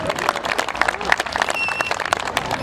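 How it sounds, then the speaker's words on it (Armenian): An audience claps at a football tournament award ceremony, a short burst of dense, moderately loud applause from a crowd, steady for under three seconds. "Բարձր ծափեր մեր շնորհակալությունները։"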